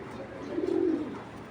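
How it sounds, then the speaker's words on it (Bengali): A single aluminium silver male pigeon gives one short, deep coo, close and clear against a quiet background. "হেভি শক্তিশালী একটা কবুতর।"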